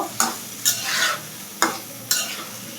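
Spices and tomato are stirred in a frying pan. Four distinct scraping strokes are each followed by a swell of sizzle over a soft, steady frying hiss.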